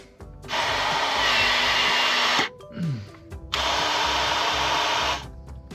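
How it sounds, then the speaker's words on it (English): A power drill bores a one-inch hole for PEX pipe while plumbing a shed to a home, with two loud, steady whirring bursts of a couple of seconds each split by a short pause and a brief low thump. "I drilled a 1-inch hole for that pipe."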